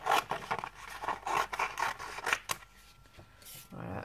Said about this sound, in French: Je peux déjà couper.